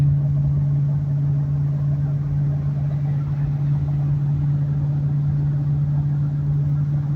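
A 2000 Ford Expedition hauling a load of large firewood rounds, overdrive off, drones along at a steady cruise with an even low engine hum and road noise, constant and close, with no change in pitch.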